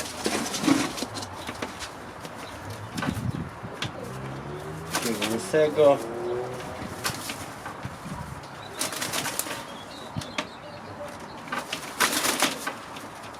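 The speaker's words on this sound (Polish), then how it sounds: "przekazał cztery gołębie" Pigeons cooing and flapping their wings, with bursts of wingbeats and soft coos amid people talking nearby.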